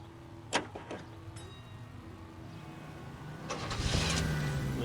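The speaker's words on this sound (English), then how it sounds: "Lincoln Continental convertible." A Lincoln Continental convertible in LA Noire starts up: a couple of sharp mechanical clicks, then the engine catches and settles into a steady, rising rumble near the listener.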